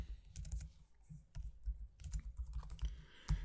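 Quick, close clicking of a computer keyboard as a field name is typed into a Microsoft Access table, uneven bursts of keystrokes with short pauses and no speech.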